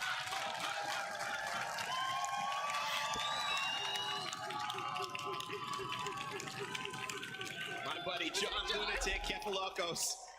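Esports arena crowd at an Apex Legends ALGS match cheering and chanting a match point chant, a dense, steady roar that fills the whole stretch, with a commentator talking over it.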